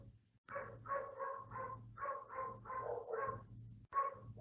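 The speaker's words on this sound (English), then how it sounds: "Oh, my neighborhood dog." A neighborhood dog barks in a steady run of about nine similar woofs, moderately distant and fairly quiet, with a short pause before one more bark at the end; no talking over it.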